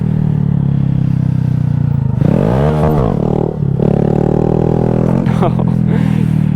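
Honda Grom 125cc motorcycle engine in third gear, loud and close, with a steady drone that climbs into a sharp revving surge and dips briefly before picking up again.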